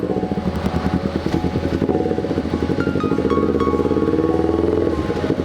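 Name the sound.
motorcycle with loud aftermarket exhaust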